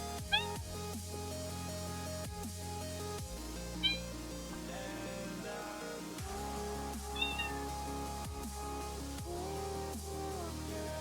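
A person imitates a cat with a few short, high meows spaced several seconds apart, close and clear over a steady bed of music.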